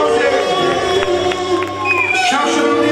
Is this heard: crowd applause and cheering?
yes